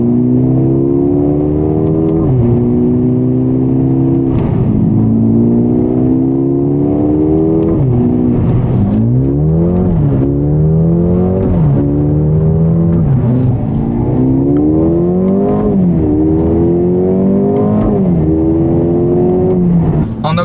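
A Mercedes A35 AMG with automatic transmission accelerates hard on a closed road, the engine revs climbing repeatedly through quick gearshifts, loud and close for about twenty seconds without speech.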